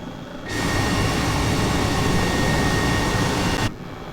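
An Airbus H135 helicopter in Flight Simulator 2020, flying low level out of Fenland airfield, gives a steady, loud whine and rotor roar that swells in abruptly and holds constant before cutting back down.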